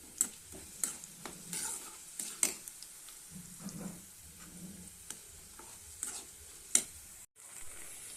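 Okra fries crisp in a pan, a low sizzle broken by irregular sharp clinks and scrapes of a stirring spoon, close and fairly quiet, with a brief drop near the end.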